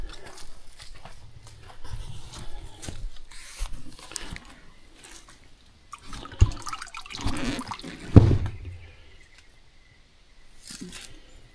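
Water splashes and runs from a homemade outdoor shower in uneven bursts, with scattered clatters and knocks between the gushes and no clear talking.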